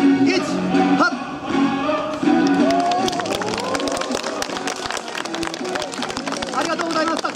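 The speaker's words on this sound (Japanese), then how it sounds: "拍手お願いします" Outdoor crowd in Ueno Park, Tokyo, applauding and cheering after a street performer's trick, with dense clapping, shouts and chatter over a busy park background.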